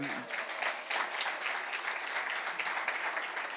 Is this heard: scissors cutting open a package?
no